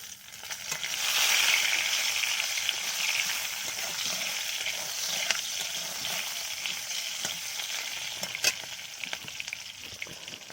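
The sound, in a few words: stirring pabda fish frying in a wok with green chillies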